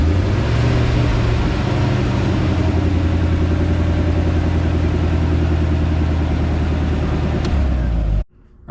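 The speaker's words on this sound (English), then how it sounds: "I'm just going to fire it up quickly now that I got the oil in the engine" A Vermeer BC1500 brush chipper's PSI 5.7L gasoline engine runs steadily, a loud, close, even rumble held for about eight seconds before cutting off abruptly near the end.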